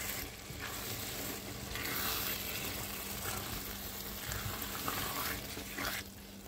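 Homemade spaghetti meat sauce simmers and sizzles in a pot while a spoon stirs it, a steady bubbling hiss with soft scraping strokes, close and continuous without talk.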